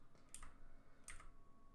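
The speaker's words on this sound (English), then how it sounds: "I do know that my keyboard is very clicky. That's because my keyboard is mechanical" Clicky mechanical keyboard keys tapped in a few quick, isolated strokes, close and quiet, with no one talking.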